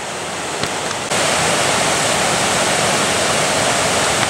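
Loud, steady rushing of a mountain river at a ford in the Caucasus, a dense roar of flowing water close by that jumps up in volume after the first second and holds constant, with no voices.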